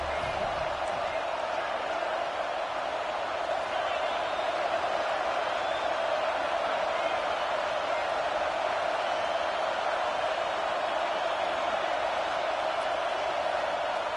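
Steady, dense stadium crowd roar from a College Football 26 game, Alabama Crimson Tide home fans at Saban Field on third down, a continuous wall of cheering that holds level throughout.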